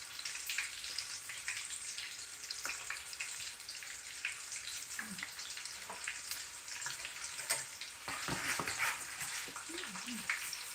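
Chicken tenders frying in hot oil for extra crispness, a steady soft sizzle and crackle running throughout, with occasional louder pops and faint stirring or movement near the end.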